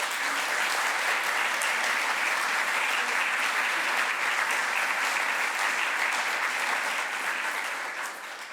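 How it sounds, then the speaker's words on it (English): Dense audience applause at an anniversary conference, steady loud clapping from a large crowd sustained for several seconds before tapering off. "I would like to give him a big applause."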